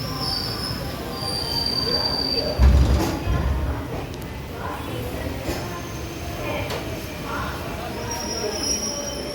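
An express train pulls into Medinipur station with metal wheels squealing in long high whines over a low rumbling roll, a heavier clunk partway through, heard close from on board.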